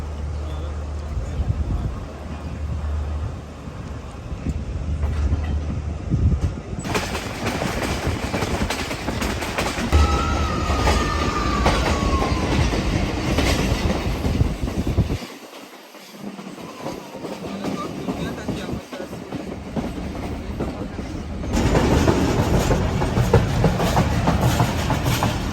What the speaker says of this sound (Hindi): The train is moving.